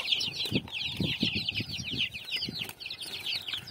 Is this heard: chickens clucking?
yes